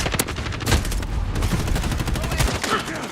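Dense gunfire from the video game Warzone, repeated shots and bursts crackling loudly and continuously throughout, near and busy, with a brief voice faintly mixed in.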